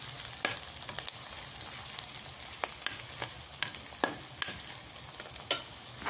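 Onions sizzle steadily in a pan on the stove, with sharp scraping clicks from a spoon stirring them at irregular intervals, close and moderately quiet with no talking.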